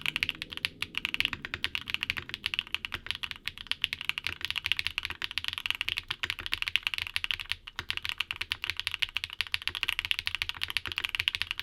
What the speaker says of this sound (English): Now here's a sound test for these apples.